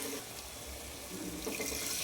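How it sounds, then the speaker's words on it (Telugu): A little water pours into crab curry cooking in a pan, a close, steady splashing and trickling flow lasting about two seconds. "కొద్దిగా నీళ్ళు వేసుకున్నాము"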